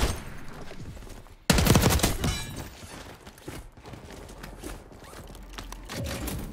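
A Tanto .22 SMG fires in Call of Duty Warzone on Rebirth Island, opening with a sudden loud close burst of rapid shots, followed by scattered quieter gunfire and game noise with no talk.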